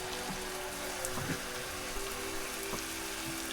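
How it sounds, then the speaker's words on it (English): Food simmering in a pot after red wine is added, a soft continuous sizzle and crackle with a faint steady hum and a few small pops. "And let that simmer down."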